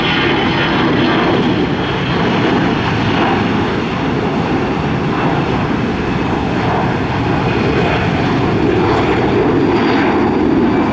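An airplane passes over Tampa airport with a loud, steady engine roar that fills the whole stretch without a break, and no voices.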